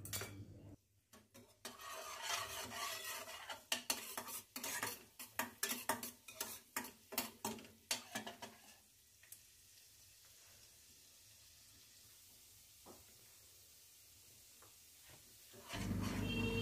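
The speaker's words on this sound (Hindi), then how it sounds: "अब इसमें छोटा छोटा कटा हुआ लहसुन डालेंगे लहसुन मैंने छः सात कलियाँ ली हैं और इसे हल्का सा ब्राउन होने देंगे" Metal utensil scraping and clattering in a pan over a soft sizzle of chopped garlic cloves frying, busy and irregular at first, then settling into a steady quiet frying hiss.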